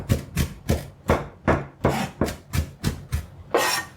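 Kitchen knife chopping red paprika on a cutting board for a tofu and egg stir-fry, about a dozen crisp, evenly spaced chops close up, no talking.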